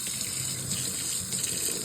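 Tap water runs steadily into a kitchen sink while a spoon is rinsed under the stream, a continuous close splashing hiss with no talk.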